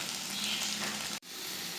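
Potato and egg frying in a pan, a steady close sizzle with a brief stir-like break near the end.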